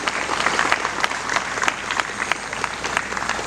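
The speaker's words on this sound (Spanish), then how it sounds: "Dale aplauso al Señor" A church congregation applauds, a dense, steady clapping from a crowd filling the room at moderate distance, sustained for several seconds.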